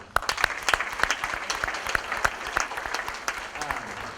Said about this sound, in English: You can guys give yourself a round of applause.